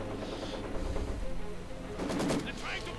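Maxim machine gun firing in a World War strategy game battle, sustained rattling gunfire and distant explosions in a dense, continuous battle din, with a louder burst of shots near the end.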